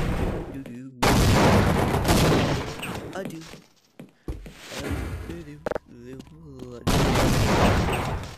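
Shotgun blasts in the Half-Life VR video game come in loud, sharp bursts separated by brief gaps, with several heavy shots rolling into one another, and game voices can be heard among the gunfire.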